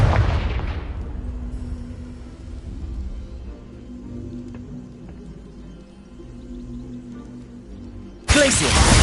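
A Confringo blasting spell goes off in Hogwarts Legacy, a loud booming blast at the start that decays into a low rumbling tail, followed by a sharp new burst near the end.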